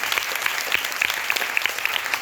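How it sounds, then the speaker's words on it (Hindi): An audience at a beauty product training session claps loudly, a dense burst of close applause lasting about two seconds. "तो इसके लिए भी एक बार जोरदार ताली होनी चाहिए।"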